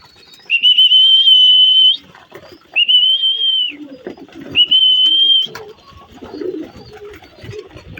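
Racing pigeons coming back to their loft: three long, steady whistled tones ring out one after another, followed by soft fluttering, rustling and scuffling close by.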